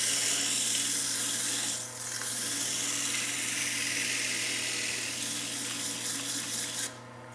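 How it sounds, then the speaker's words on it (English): Steady abrasive whirring of sandpaper against the inside of a small wooden bowl spinning on a lathe, continuous and close, a soft hum running under the rasp throughout. "I am going to sand just a little bit."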